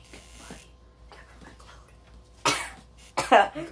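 Two sharp coughs close to the mic, one after the other, following a stretch of quiet background noise.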